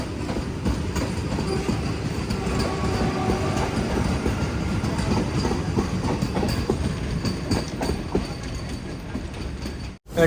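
Mangaluru Central–Madgaon Goa Vande Bharat train nearing Mangaluru Central station, heard from inside: continuous loud rumble with fast clickety-clack of wheels over rail joints and faint wheel squeal, cutting off abruptly at the end.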